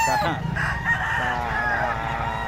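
A rooster's crow rings out from a short distance at a gamecock market in Bocaue before dawn, a sustained wavering call over a low rumble of background noise.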